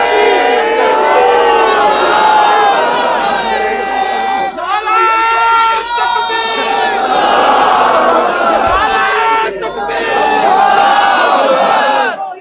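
A large crowd at an open religious gathering (ijtima) in Gujrat shouts loud, sustained slogans together, with massed voices rising and falling in waves across the whole stretch and brief dips between the chants.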